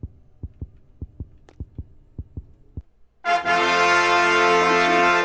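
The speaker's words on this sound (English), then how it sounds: "Can you quiet your fucking heartbeat?" Heartbeat effect in the horror video game Neighbor Next Door, roughly nine evenly spaced low thumps, then a sudden loud, sustained, buzzing tonal blast that cuts them off.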